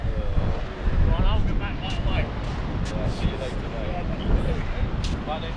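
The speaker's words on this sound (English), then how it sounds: "It is windy." Steady wind roars and buffets the microphone outdoors on the Lincolnshire coast at low tide, a constant low rumble throughout, with occasional faint voices or calls in the background.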